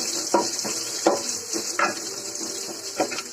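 Small onions frying in a pan, a continuous hiss of sizzling oil with occasional stirring scrapes and light clinks of a utensil against the pan, close and without talk.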